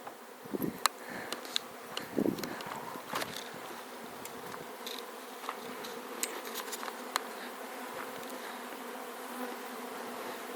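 A honeybee colony at a hive buzzing in a dense, continuous drone, with individual bees zipping close past in brief louder swells and faint background noise.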